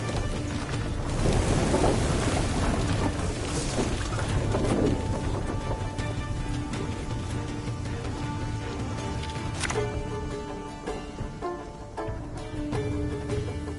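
A thunderstorm in Thronebreaker: The Witcher Tales: heavy rain hisses steadily throughout, with loud rolling thunder swelling early on and a sharper crack partway through.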